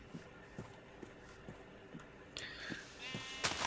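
Sheep in the Minecraft video game bleat in short repeated calls at a steady rhythm, moderately loud, with some brief shuffling or digging noises toward the end.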